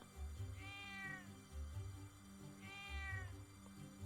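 A cat in a video game meows twice, each call a clear drawn-out mew, set over soft looping game music with a steady plucked beat.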